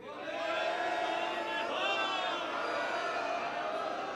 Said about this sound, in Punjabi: ਫਿਰ ਜੈਕਾਰਾ ਲਾ ਦਿਓ ਜੇ ਕਢਾ ਕੇ ਲਿਆਂਦੇ ਤੇ